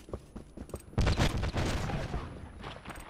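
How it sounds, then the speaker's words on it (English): Rapid gunfire in the GoldenEye video game, a dense burst of shots starting after a second of quieter clicks and continuing loudly for about two seconds before fading. "I'm just shooting randomly now, man"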